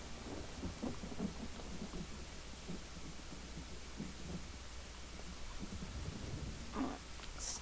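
Rain and thunder in Elder Scrolls Online: constant rain hiss with low, rolling thunder rumbles recurring throughout, with no voices.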